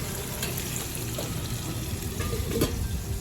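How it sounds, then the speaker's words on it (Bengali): Potatoes frying with salt in a pan for a vegetarian potato and pointed-gourd curry, giving a steady low sizzle with occasional stirring scrapes, close and continuous, with no voices. "লবণের সাথে আলুটা খুব ভালো করে ভেজে নেব"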